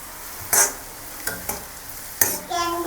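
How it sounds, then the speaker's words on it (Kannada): Spoon stirring onions browning in oil in a pan, a soft steady sizzle broken by a few sharp scraping clinks of utensil against metal. "ಸ್ವಲ್ಪ ಬ್ರೌನ್ ಆಗೋವರೆಗೂ ಇದನ್ನು ಕೈ ಆಡಿಸ್ತಾ ಇರಿ"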